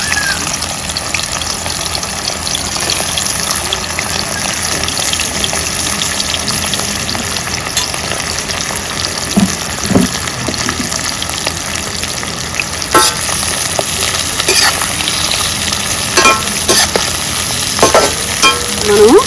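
Chopped onions hiss and crackle in hot oil in a pan, a loud, continuous sizzle, with a spatula's scraping and clinking stirring sounds growing more frequent toward the end.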